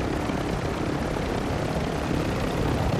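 Steady, loud rotor drone of a helicopter in a battle royale video game, a continuous broadband whir filling the whole moment without pause and with no voices over it.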